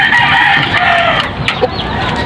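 A Texas-breed hen clucks and crows loudly and close by in a farm coop during egg collection, with drawn-out vocal calls followed by a short cluck.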